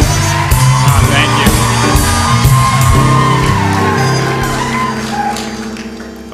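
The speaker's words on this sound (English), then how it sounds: "Glad the Northrop Grumman cheering section came tonight." A Northrop Grumman cheering section at an awards ceremony whooping, yelling and shouting loudly as a crowd, with rhythmic claps and stomps underneath, gradually tapering off toward the end.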